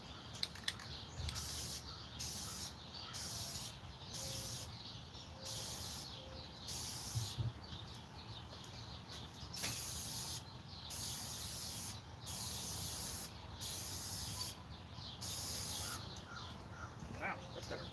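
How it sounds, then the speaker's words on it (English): A spray paint can sprays in repeated short bursts, a hissing sound close by, separated by brief pauses, with occasional quiet handling noises between bursts. "this has got a really nice sprayer on it"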